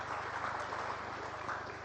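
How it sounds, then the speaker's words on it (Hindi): Applause from an assembled audience welcoming Madhya Pradesh Vidhan Sabha Speaker Girish Gautam: dense, steady clapping from many hands, moderately distant, sustained throughout. "मैं चाहूंगा एक बार पूरा सदन जोरदार तालियों से गिरीश गौतम जी का अभिनंदन करें।"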